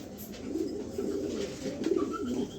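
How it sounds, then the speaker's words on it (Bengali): A pair of pigeons coo nearby, soft throaty rolling calls repeating over a couple of seconds against a quiet background, with no speech. "দেখার মতো এক পেয়ার কবুতর"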